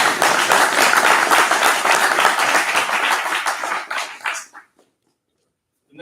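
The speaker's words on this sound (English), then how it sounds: "Let's have another round of applause for those cadets" Sustained, dense clapping from a seated audience at a university ROTC awards ceremony honoring cadets, loud and continuous for about four seconds before tapering off into silence.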